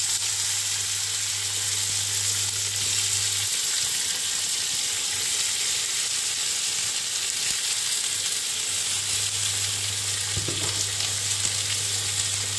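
Onions sizzle in hot oil, a steady, close frying hiss that runs continuously with faint stirring.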